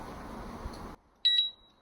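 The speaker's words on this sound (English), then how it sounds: "This one, when it goes through, it beeps" After a stretch of rustling noise, a single high electronic beep from a motorcycle disc lock alarm sounds briefly and then trails off into silence.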